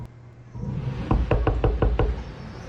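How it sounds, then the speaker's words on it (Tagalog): Knocking on a door at a tree house in a horror reaction video, five or six sharp, evenly spaced raps in quick succession, loud and close, with no talk over them. "Kumakatok ulit."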